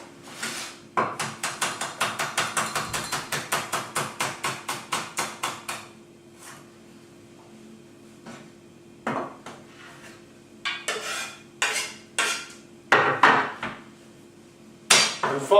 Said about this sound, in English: I'm going to chop it up and put it in here.